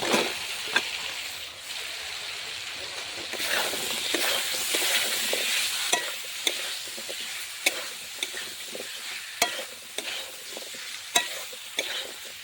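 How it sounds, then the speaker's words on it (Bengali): Spice paste fries in a pan with radish and taro, giving a steady hiss and sizzle broken by regular sharp scrapes and taps of a stirring spoon against the pan. "মশলাটাকে আমি ভালো করে কষিয়ে নেব।"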